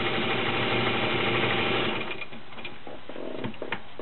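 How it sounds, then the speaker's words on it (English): A vintage pink Atlas straight stitch sewing machine runs with a steady, fast mechanical whir and rattle, then slows and stutters into softer intermittent clicks and hums toward the end. "Like I said, it is just a basic straight stitch machine."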